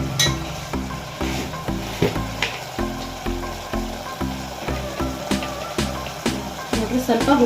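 Jackfruit seeds with turmeric fry and get stirred in a pan, giving a continuous sizzle with scraping stirs. A steady rhythmic musical backing plays throughout.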